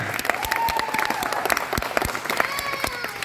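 An audience at a show in Subic, Philippines claps hands in quick, fairly regular beats, close and lively, with a voice and some cheering tones rising over the clapping.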